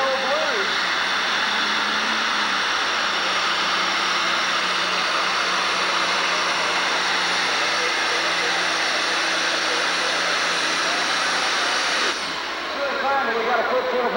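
A diesel pulling tractor roars in a loud, sustained drone through a 1996 tractor pull in Madisonville, Kentucky, dropping off near the end, with an announcer talking over it.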